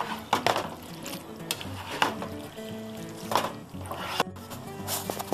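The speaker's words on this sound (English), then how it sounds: "And mix it all up." Johnny Marzetti casserole ingredients mixed in a dish, soft repeated scraping and clinking of a utensil against the container, fairly quiet and close.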